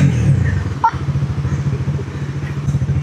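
A Dominar motorcycle engine revving close by, a loud steady throbbing rumble with rhythmic pulses that dips briefly and then comes back strong.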